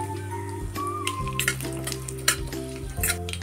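Green chillies sizzle and crackle in hot oil with spluttering mustard seeds and cumin, a steady close frying hiss with stirring and no talk, for a spicy raw mango curry.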